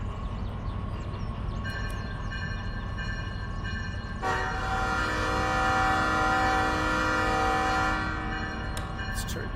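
A train locomotive cab in the Derail Valley railway simulator, played in VR, rumbles with a low steady drone, then a loud sustained multi-tone horn sounds for several seconds before fading back to the engine hum.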